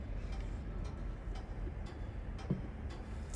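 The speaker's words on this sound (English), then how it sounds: "Oh god, the ticking!" Soft ticking from the Dead Space video game, a faint steady series of light clicks repeating through a quiet, low-rumbling backdrop.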